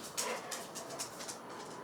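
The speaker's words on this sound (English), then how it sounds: "Dog's still carrying on." A dog somewhere in the background gives faint, repeated short yelps and whimpers in an irregular rhythm, with no one talking.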